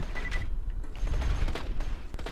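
Gunfire in the video game Borderlands 2, a dense, continuous low rumble of shots and booms with scattered sharper cracks, loud and sustained through a hectic fight with no talking.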